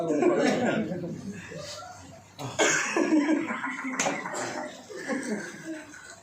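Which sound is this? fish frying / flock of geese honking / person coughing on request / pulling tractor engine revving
person coughing on request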